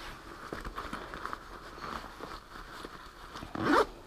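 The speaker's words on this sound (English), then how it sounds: "Zippers work excellent on this jacket." Zipper on an Arctic Cat winter jacket is worked in short rasping pulls, close and clear, ending in one louder, longer zip near the end.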